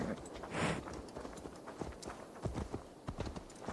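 Horse hooves clip-clop in Assassin's Creed Valhalla, a quick, rhythmic run of moderately loud hoofbeats on the ground that continues steadily throughout, with no talk over it.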